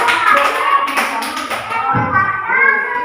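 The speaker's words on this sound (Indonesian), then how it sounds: "Tepuk tangan." A classroom audience claps in a short burst of scattered, close hand taps that overlap with voices.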